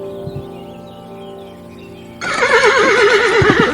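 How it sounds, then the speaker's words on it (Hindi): In a Hindi cartoon moral story, an injured village horse lets out a loud, wavering whinny that bursts in partway through after a soft, steady musical background, and the cry carries on to the end. "अशोक ने घोड़े को घायल देखकर अपने साथ ले आया और उसे पालने लगा।"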